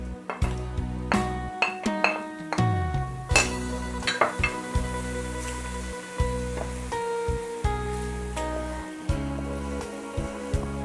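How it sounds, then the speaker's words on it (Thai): Garlic frying in hot oil in a pot for a Lao khao soy sauce, a soft sizzle under repeated metal utensil clinks and scrapes against the pot, close and steady, without talk. "ในเมื่อน้ำมันเฮาร้อนได้ที่แล้วบัดนี้หากเอากระเทียมลงไปเจียวพี่น้อง"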